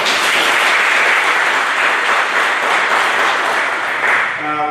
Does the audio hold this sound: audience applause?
yes